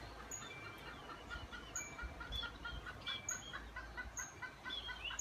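Chickens cluck repeatedly at a moderate distance over a steady outdoor hiss, with occasional higher squawks and bird chirps.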